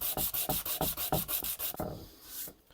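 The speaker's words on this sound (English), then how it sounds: "be sure to have a lot of sandpaper at your house, because you want to constantly change them out" Sandpaper rubbed over a guitar body, about ten quick, close, rhythmic scraping strokes, then a fading final rub and silence, with no voices.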